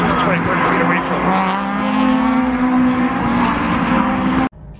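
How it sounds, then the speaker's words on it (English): Race cars passing at Daytona International Speedway, a loud sustained engine roar with rising and falling whine as they go by nearby, under light talk, cutting off abruptly near the end. "Great view to just watch these cars go around and around."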